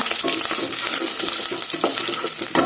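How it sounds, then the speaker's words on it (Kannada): Garlic, dried red chillies, mustard seeds and green chillies fry in hot oil, producing a dense, steady crackling sizzle with occasional stirring clicks, close and fairly loud, without speech. "ಸೇರಿಸ್ಕೊಂಡು ಈ ಥರ ಫ್ರೈ ಮಾಡ್ಕೊಳ್ಳೋಣ"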